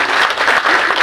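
Dense, steady applause from an audience at a public ceremony, loud and continuous, thanking a chief minister and doctor.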